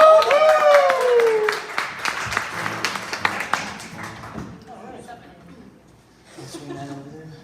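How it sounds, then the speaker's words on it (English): Audience at a Wednesday night ceilidh dance claps and cheers in a burst of applause that fades over several seconds, mixed with chatter and someone speaking over it. "Can we give Rose Morrison a big round of applause as well?"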